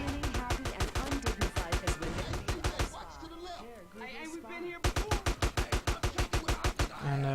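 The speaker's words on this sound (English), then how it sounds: "I need to shoot my car for AK skill" AK rifle firing at a car in GTA San Andreas: rapid, evenly spaced automatic bursts, then a brief lull with other game sounds, then another sustained volley.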